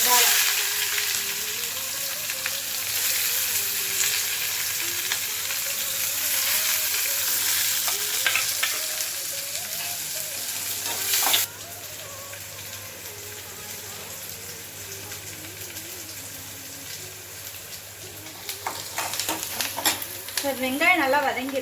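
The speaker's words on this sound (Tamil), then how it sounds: "வெங்காயம் நல்லா வதங்கிடுச்சு." Onions fry with cumin and a little fenugreek in a pan for a Tamil roasted-eggplant tamarind kootu, giving a steady close sizzle throughout, with scraping stirs and a slight drop in intensity midway.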